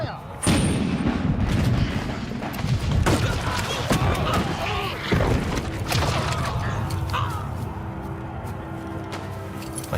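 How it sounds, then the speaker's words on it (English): Mitraille cannon volleys at the Battle of Waterloo, heavy booming blasts and bursts of fire layered densely through the clip, loud and sustained, with a voice faintly mixed beneath the din. "Wellington responds with volleys of mitraille"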